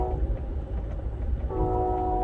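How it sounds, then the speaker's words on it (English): A train horn sounds in the distance, a sustained chord rising out of a low rumble of rolling rail cars. "listen to that sweet train whistle music all night long"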